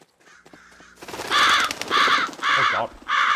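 Crows caw in a video game, four loud harsh calls in a quick ragged series after a brief stretch of quieter background sounds.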